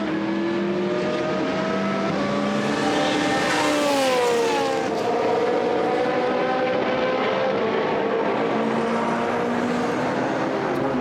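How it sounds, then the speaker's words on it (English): Ferrari GT race car at Misano during a sports car club race, its exhaust roaring loud and close as it accelerates out of turn 6, the pitch rising and shifting through gears, sustained for several seconds with no talking. "spectacular exhaust, isn't it, on Michael Lanting's Ferrari."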